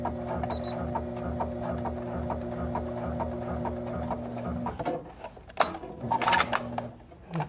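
Silk ribbon wound in the bobbin is stitched slowly with a long straight stitch on a home sewing machine, its steady mechanical whir and hum running close and even, then halting into a few clicks and bumps near the end.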